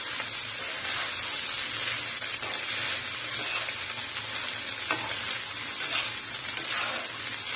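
Egg fried rice with scrambled egg being stirred in a pan, a steady close sizzle with continuous scraping and stirring strokes throughout, no voices.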